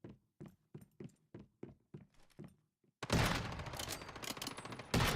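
Submachine gun fire in the Once Human survival shooter game: a steady string of about nine evenly spaced, thudding shots, then a sudden loud, dense burst of rapid continuous fire that fills the last two seconds. No talking.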